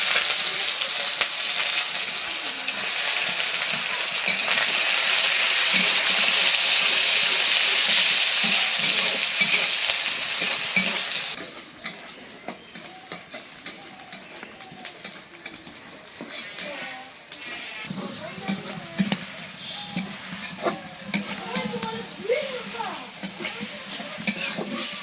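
Onions and dried chili fry in hot oil while being stirred, with a loud, steady sizzle for about eleven seconds, then a quieter crackle broken by the scrape and clatter of stirring.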